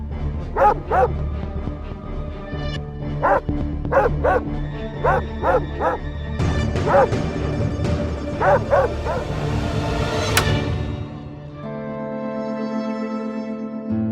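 A battery-powered toy dog gives out repeated electronic barks and yips in short bursts, loud and close, before it is switched off and a low hum remains.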